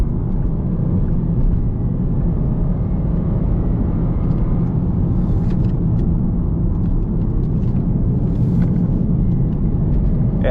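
Inside a Lexus IS 200t driving in manual mode, a constant road and engine rumble holds steady throughout, with faint ticks and clicks now and then over the drone.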